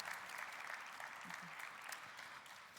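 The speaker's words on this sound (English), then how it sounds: "A round of applause for our panel." Applause from a conference audience after a panel discussion, a continuous soft patter of many hands clapping, faint and somewhat distant, with a brief low voice murmur beneath.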